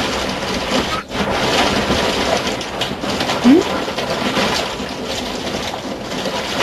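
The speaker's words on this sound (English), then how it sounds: "Can you hear that? That's the rain here." Steady rain falls outside, a dense continuous hiss close by with a few dull knocks and a brief higher squeak, and no talk over it.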